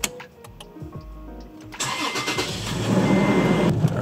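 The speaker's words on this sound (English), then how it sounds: "Let's get this truck started." A truck engine cranks with a few clicks and whirs, then catches and fires up into a rough, rising idle that grows steadily louder, heard close up with no talking.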